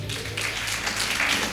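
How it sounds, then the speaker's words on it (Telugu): A church congregation claps together at a Telugu worship service, a steady, even wash of applause from many hands sustained throughout. "హల్లెలూయా, చప్పట్లు కొట్టండి."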